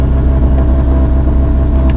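A Mercedes A45 AMG sits in launch control at full power before a drag race, its engine holding a loud, steady high-revving roar, close and continuous with no talk.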